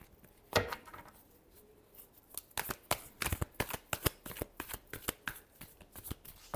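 Tarot cards are shuffled by hand in quick, crisp riffles and taps, close up, one flurry after another with short pauses between.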